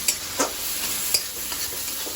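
Taro greens and prawns stirred in a pan, a soft steady sizzle under a few distinct scraping strokes of the spatula, close and moderately loud.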